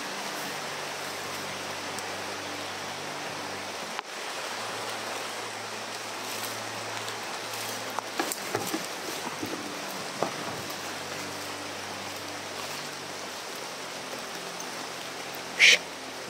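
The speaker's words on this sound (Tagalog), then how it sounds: "sobrang lakas ng ulan" Heavy rain pours down steadily outdoors, a dense close hiss that fills the whole stretch without letup, with a brief sharp knock or two and speech heard under it.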